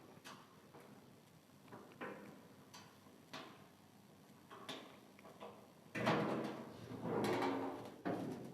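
The hydraulic-section door of a fuel dispenser cabinet is opened, with scattered metallic clicks and knocks followed by louder rattling and sliding panel noise near the end, close by and without talk.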